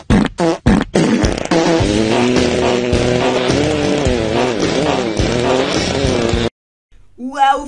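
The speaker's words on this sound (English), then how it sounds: "You think that's a good fart?" A cartoon fart sound effect: a few short blasts, then a long, loud, wavering, pitch-bending blare lasting several seconds. It stops abruptly, and a brief voice follows after a pause.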